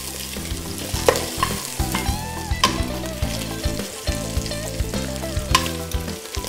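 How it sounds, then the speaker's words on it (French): Bacon lardons frying in butter for a traditional coq au vin give a steady, dense sizzle with occasional louder spits, partly buried under melodic background music throughout. "l'aliment qui cuit dans le beurre, j'adore"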